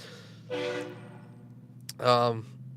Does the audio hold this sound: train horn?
yes